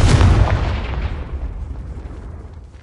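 A Confringo blasting curse explodes in the Hogwarts Legacy video game: a single loud, close boom hits at once and then rolls away in a long fading rumble over the next few seconds.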